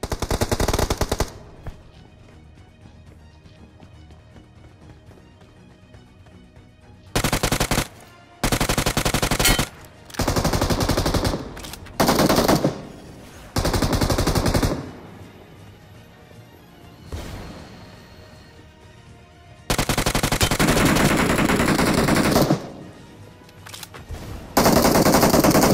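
Bursts of rapid video-game gunfire alternate with quieter stretches of game ambience in a battle-royale-style match, sustained automatic volleys loud and close, with no talk.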